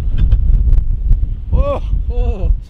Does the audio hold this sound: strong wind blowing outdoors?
yes